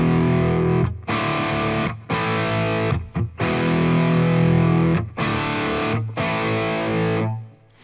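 Distorted electric guitar chugging rhythm power chords on E5, D5 and A5, loud and alone, with chords punched out in short bursts separated by brief syncopated gaps before ringing out at the end.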